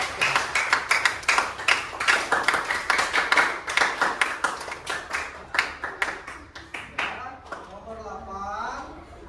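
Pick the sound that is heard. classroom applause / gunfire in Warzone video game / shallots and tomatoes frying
classroom applause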